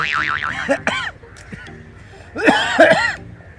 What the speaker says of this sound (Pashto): ته دا ټوخی دې وګوره چې دقیقه نه غلی کېږي